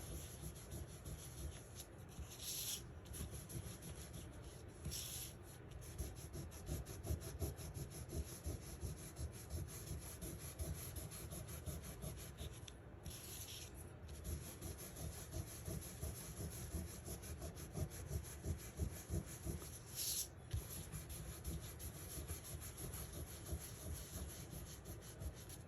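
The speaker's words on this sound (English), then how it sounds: "I'm going to rub on my embossed areas." Ink is rubbed across the embossed areas of a handmade greeting card in quiet, close scrubbing strokes, a soft continuous rasp with a few sharper swipes, and no talking.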